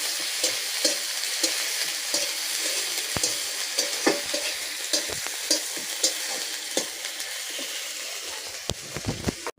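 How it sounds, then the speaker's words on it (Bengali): Onion paste frying in a pan for a Bengali prawn malai curry, a steady sizzle with repeated scraping stirs and clacks of the spatula running throughout, close and fairly loud. "পেঁয়াজটা একটু লাল লাল করে ভাজবো।"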